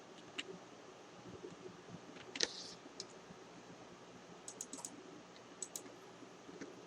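Quiet, sparse typing on a computer keyboard, a few scattered key clicks with one sharper cluster midway and more taps toward the end, close but faint against a soft hiss of room noise.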